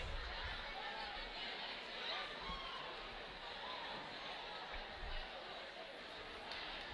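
Faint, diffuse crowd chatter fills a school gym before a boys basketball game, a low steady murmur with occasional thuds and a voice talking over it.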